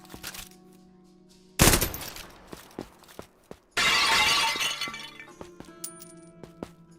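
Red crystals are blown up and shatter in a base-building video game: a sharp explosive crash with glassy breaking, then a second longer burst of shattering debris, surrounded by scattered small clicks and pings.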